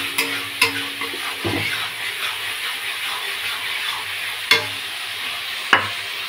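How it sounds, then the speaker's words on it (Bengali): Spicy egg masala is stir-fried in a pan: a steady hissing sizzle fills the air, broken by a few sharp knocks of a spatula against the pan. "এবার আমরা কষাতে থাকি।"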